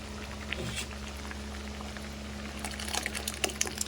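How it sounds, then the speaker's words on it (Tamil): Ground coconut paste is poured into a simmering cauliflower curry, with a steady bubbling boil and soft liquid splashes that grow livelier toward the end. "இப்போ நம்ம தேங்காய் ஊற்றிக்கலாம்."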